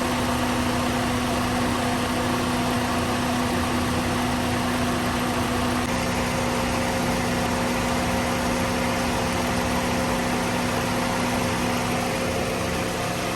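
A Toyota Celica engine idles steadily while warming up after a radiator and thermostat replacement, a continuous even hum with a low, stable drone throughout and no talk.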